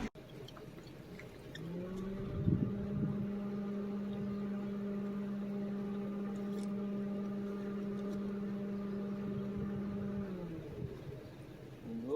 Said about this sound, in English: after letting the engine warm up and cycle, the fans did turn on.